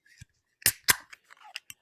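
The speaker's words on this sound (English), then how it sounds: "do you want to crack open the Overtone Plur?" A can of Overtone Brewing Plur beer cracked open, with a sharp click and hiss followed by a second snap and a few small metallic taps and fizzing sounds, close by with no talk.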